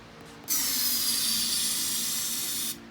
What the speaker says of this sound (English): I'm gonna spray one more time inside the cylinder